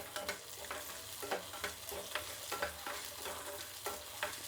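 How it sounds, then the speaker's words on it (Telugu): Peanuts and green chillies sizzle in oil in a pan while a spoon scrapes through them in a regular stirring rhythm, each stroke a close, crisp sweep over the frying hiss. "ఇప్పుడు వీటిని బాగా వేయించుకోవాలండి,"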